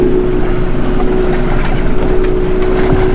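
A motorboat runs close by, its engine a steady droning hum over wind buffeting the microphone.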